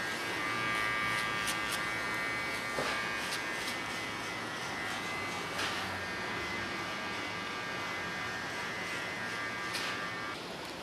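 An electric hair clipper buzzes close and steady while cutting a short pixie haircut, a constant whine with brief bursts of snipping texture as the blades pass through hair, and no voices.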